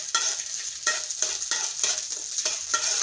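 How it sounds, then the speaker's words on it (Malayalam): Cashews and raisins fry in hot ghee in a pan, a bright steady sizzle broken by regular stirring scrapes roughly every half second, close and fairly loud with no talking. "നെയ്യ് ചൂടായി വരുമ്പോൾ എടുത്തു വെച്ചിരിക്കുന്ന അണ്ടിപ്പരിപ്പും മുന്തിരിയും വറുത്തെടുക്കണം"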